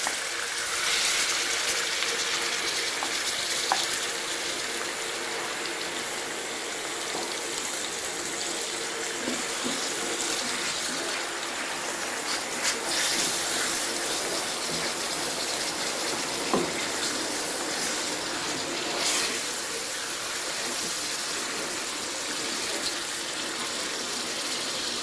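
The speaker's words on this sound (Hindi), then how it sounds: "ऑयल हमारा गर्म हो चुका है, अब इसके अंदर कीमा ऐड करते हैं।" Minced keema fries in hot oil, giving a steady, hissing sizzle that runs unbroken for the whole stretch, with a few faint clicks and no talking.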